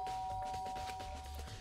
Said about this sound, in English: I pressed the doorbell.